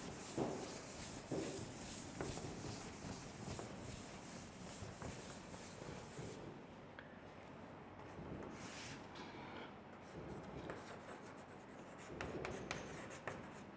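Writing is being erased from a board in a coaching classroom, a steady, faint rubbing and scraping that continues for several seconds with a few louder scuffs, alone without talk.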